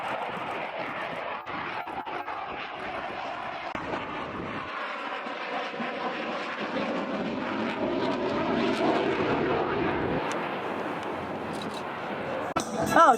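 A CF-18 fighter jet configuring with landing gear and hook down at an airshow gives a steady, broad engine roar that swells toward the end, with an announcer talking over it throughout.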